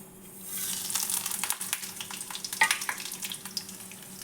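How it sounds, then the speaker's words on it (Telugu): Mustard seeds, curry leaves, dried chillies and garlic frying in hot oil for a tempering, a bright crackling sizzle with sharp pops building up close by. "ఇప్పుడు పోపు కోసం మనం ఆయిల్ పెట్టుకొని ఇప్పుడు నేను చూపించినవన్నీ వేసుకున్నాం. ఆవాలు, కరివేపాకు, ఎండుమిర్చి,"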